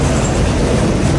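Train 15M runs westbound on the Fort Wayne Line, a loud, close, steady rumble of wheels and cars passing without a break.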